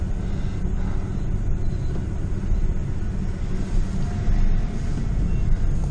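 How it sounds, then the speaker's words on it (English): A dirty old Ford F-150 pickup truck running, heard from inside the cab as a steady, loud low rumble with slight fluctuations throughout. "we're looking through the dirty windshield of a dirty old F-150"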